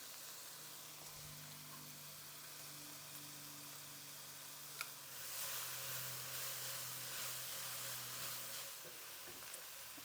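Garlic hits a hot skillet already holding sautéed peppers and onions for Philly cheesesteak bread, giving a faint, soft sizzle that swells into a louder, steady hiss midway.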